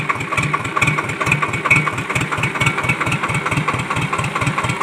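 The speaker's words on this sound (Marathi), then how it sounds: "आता बघा ट्रॅक्टर सुरू झाला आहे आणि त्याची सरी करण्याची प्रक्रिया सुरू झालेली आहे" A tractor engine runs while ploughing furrows in a field for drumstick planting, with a loud, close, steady chugging rhythm of rapid regular pulses throughout.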